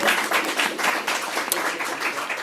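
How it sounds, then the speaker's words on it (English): A room full of people at a board meeting gives a round of applause, with steady overlapping claps at moderate loudness throughout. "So would totally be open to a round of applause for Lori if we could."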